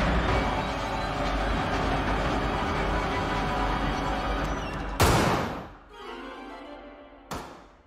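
A dense burst of gunfire from a TV drama episode plays loud and continuous for about five seconds, then a sharp crack and fading echo, followed by a quieter thump and one more sharp hit.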